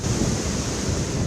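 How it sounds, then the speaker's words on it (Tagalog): Strong typhoon wind roars steadily through Gonzaga, Cagayan during Typhoon Marce, a loud, dense rush of broadband noise with no pauses and no voices. "Sumisipol ang napakalakas na hangin sa Gonzaga, Cagayan."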